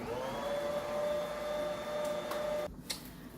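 An electric mixer beats apple pie bread batter with a steady, close motor hum, then cuts off abruptly near the end, followed by a faint clunk.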